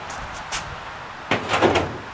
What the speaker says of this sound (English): let's knock this hood off